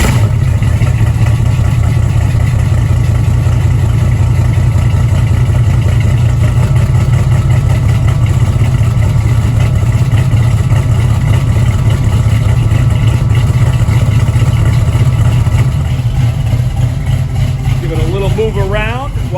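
A 502 V8 in a Camaro idles on a cold start with a carburetor and choke, a loud, continuous low rumble throughout with a voice speaking over it.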